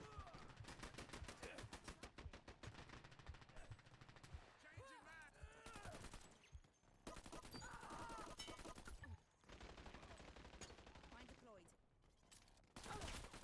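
Rapid bursts of automatic gunfire and single shots from the online shooter Dirty Bomb crackle loudly through most of the stretch, with short pauses and some explosive crashes.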